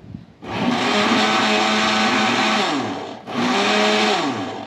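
A small electric mixer whirs loudly and steadily at close range, stops briefly, then starts again for a second run that slowly winds down.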